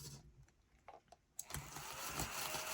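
A small vacuum cleaner whirs into life after a quiet stretch, its broad hissing motor noise swelling and holding steady, faint and close in a quiet room with no talking.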